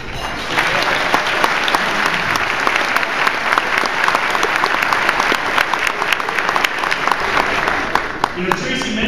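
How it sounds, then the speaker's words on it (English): A conference audience applauds veterans with sustained, loud clapping for about nine seconds, individual claps crackling through an even roar of hands. "let's give all the veterans a round of applause."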